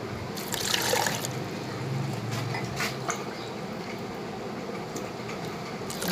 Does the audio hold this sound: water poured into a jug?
yes